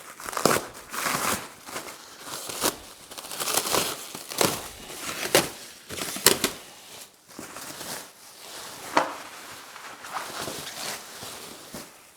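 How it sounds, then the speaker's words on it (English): Plastic wrap is sliced and peeled off the welded steel crate of a MechMaxx SG24 three-point stump grinder, giving close, irregular crinkling and crackling bursts with scattered sharp snaps and no talk. "All right, we'll cut the wrap off."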